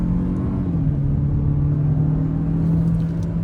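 A Renault Duster with a 1.3-litre turbocharged four-cylinder petrol engine (1333 cc) hums while driving, a steady, loud cabin drone with a smooth low tone and no talking.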